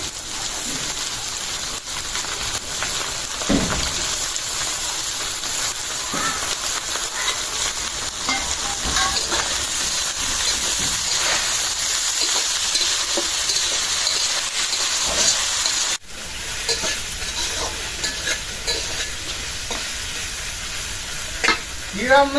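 Shrimp and mixed vegetable shukto sizzling in hot oil in a wok, a loud, steady hiss of frying with occasional stirring scrapes and clinks throughout, close up.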